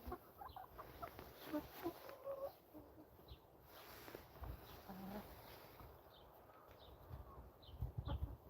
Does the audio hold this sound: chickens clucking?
yes